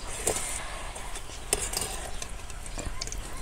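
Spinach bhaji being flipped in hot oil: soft sizzling frying runs throughout while a utensil clinks and scrapes against the pan a few times, close and fairly quiet.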